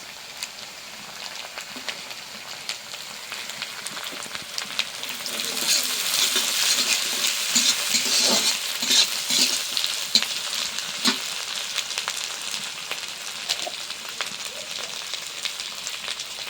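Green chillies fry in a pan and get stirred, a steady sizzle that swells louder midway, with light scraping and clinks from the stirring.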